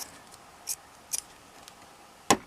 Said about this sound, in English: put your scissors in